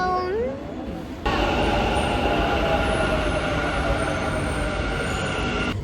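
A metro train rolls into the station, a loud sustained rumble with a rising whine and screech that fills the platform, briefly preceded by a falling squeal before the roar jumps up.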